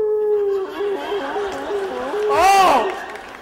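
A crowd of audience members imitates a hound dog howl, a long wavering group voice that rises into a louder, higher swell near the end before trailing off.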